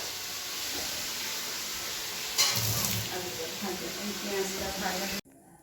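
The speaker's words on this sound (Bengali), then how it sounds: "এই যে পেঁয়াজ রসুন ভাজা হচ্ছে" Onion and garlic fry in a pan for biryani, giving a steady hissing sizzle with a sharper burst partway through, and a voice faintly present underneath before it cuts off abruptly.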